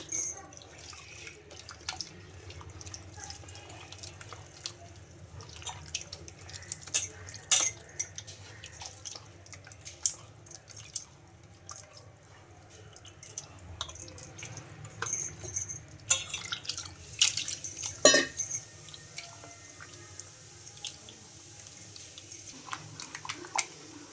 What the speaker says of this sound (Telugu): కొద్ది కొద్దిగా వాటర్ అయితే వేసుకుంటూ పిండి మొత్తాన్ని బాగా కలిపేసుకోవాలి